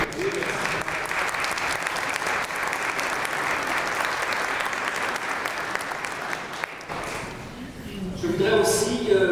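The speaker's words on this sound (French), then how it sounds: "on peut l'applaudir." An audience applauds inside Sainte-Thérèse church, steady dense clapping filling the room for several seconds before thinning out, with a voice coming in at the very end.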